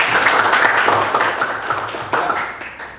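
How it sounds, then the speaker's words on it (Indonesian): Classroom applause for a student, a brief burst of many hands clapping together at close range, steady for about three seconds before tapering off. "Tepuk tangan buat Elia."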